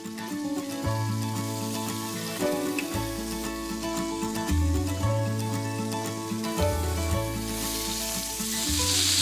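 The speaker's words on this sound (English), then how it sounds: "There it is, sizzling." Salmon fillet sizzles and crackles in a hot pan, a continuous frying hiss beneath prominent background music.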